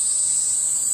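Cicadas buzz in one steady, loud, high-pitched drone that holds unbroken from start to finish, with no voices over it.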